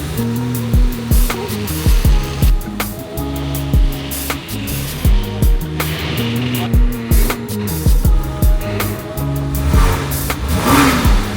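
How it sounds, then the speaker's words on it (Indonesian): A Porsche 986 is driven onto a lift for towing. The engine idles loudly and revs in repeated short surges, with rhythmic clunks and rattles of the car moving. "let's move the car"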